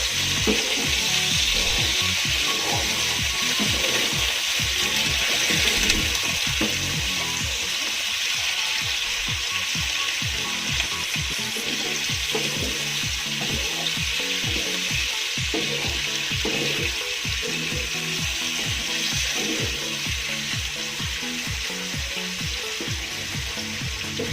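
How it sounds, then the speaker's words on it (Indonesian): Squid frying in a pan while being stirred, a steady loud sizzle beneath continuous rhythmic scraping strokes of a spatula, close up with no talking. "Ini kita aduk."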